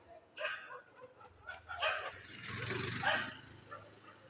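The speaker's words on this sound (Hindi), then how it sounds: "हम पर भौंकने लगे, बताओ।" A dog barks and yips several times in short bursts, fairly faint and slightly distant, with a whimpering edge.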